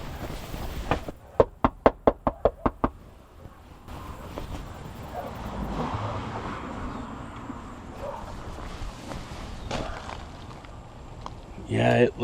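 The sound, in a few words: knocking on a house door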